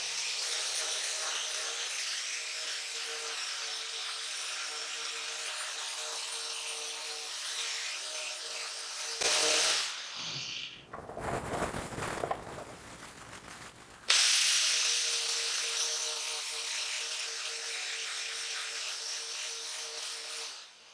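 A power buffing tool polishes a motorcycle motor guard, giving a steady high-pitched whirring hiss that cuts out briefly into rougher grinding and rubbing before the smooth whine resumes, loud and close, with no talking.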